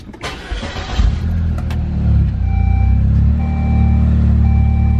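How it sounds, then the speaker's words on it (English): A Saab 9-3 car engine cranks with a short starter whir, then catches and settles into a steady, loud idle close by, with a few faint electronic chimes sounding over the running engine. "And now, when I start the car,"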